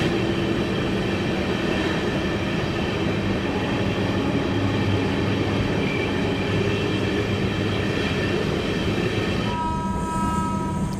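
A passenger train, the Ramnagar Dehradun Express, runs through Doiwala with a constant loud rumble and rattle of wagons on the rails, heard from on board, and a tonal whine near the end.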